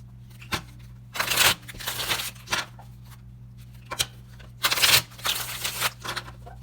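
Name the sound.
shuffling a tarot card deck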